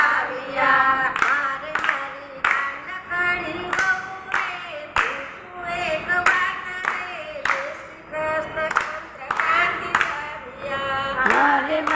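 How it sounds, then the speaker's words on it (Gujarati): An audience claps in steady unison along with a devotional Krishna bhajan sung by a woman, sharp rhythmic handclaps over the melody, loud and close throughout. "બધાની તાળી સરખી પાડો"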